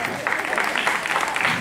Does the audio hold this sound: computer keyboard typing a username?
no